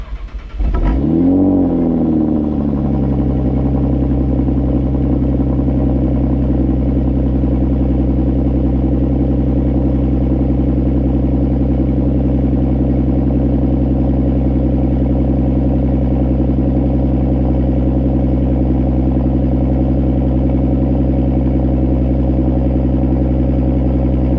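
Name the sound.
Audi A6 3.0T cold start with Borla exhaust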